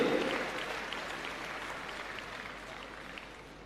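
Audience applause at a ceremony honouring students from Delhi government schools, a fairly faint, even wash of many hands clapping that slowly fades.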